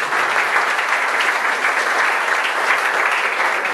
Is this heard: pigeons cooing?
no